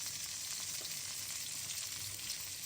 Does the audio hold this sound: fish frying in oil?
yes